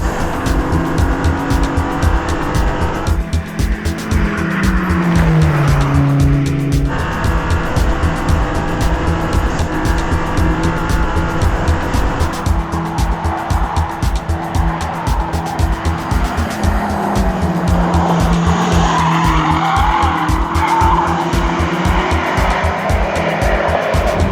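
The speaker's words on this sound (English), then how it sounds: "is the perfect car to run up Pikes Peak because 738 horsepower" A 738-horsepower BMW M car races up the Pikes Peak hill climb, its engine roaring loudly and continuously with rising and falling revs through gear changes, close and dominant throughout, with faint tire noise.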